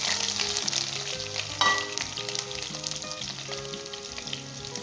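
Onions fry in a pan for a Kashmiri mutton and potato curry, a steady close sizzle with the faint clatter of stirring and no talk.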